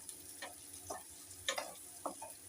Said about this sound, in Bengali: আমি পেঁয়াজ দিয়ে একটু নেড়ে নেবো।